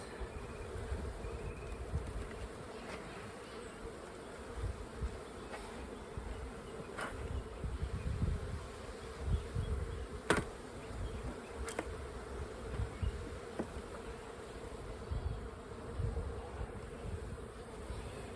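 Honeybees hum around an open hive box during an urban apiary inspection, a dense continuous buzz with individual bees passing close to the microphone, and no talk.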